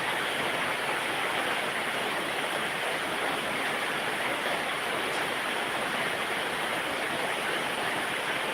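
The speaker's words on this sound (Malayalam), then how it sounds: "മഴ നല്ല മഴയാണ് കേട്ടാ" Heavy rain pours down at night in a continuous dense hiss, loud and unbroken throughout, with no voices heard.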